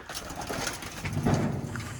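Pigeons cooing nearby in low, throaty murmurs, several overlapping calls rolling on steadily.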